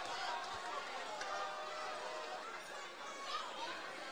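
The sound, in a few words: crowd cheering at a fight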